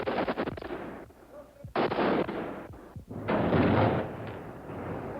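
Sniper gunfire during the Lebanese civil war: a series of sharp, loud rifle shots cracking and echoing through an urban setting, with sustained rumbling bursts of fire in between.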